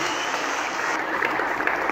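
A church congregation gives a brief burst of dense, even applause, many hands clapping at once at moderate volume for about two seconds.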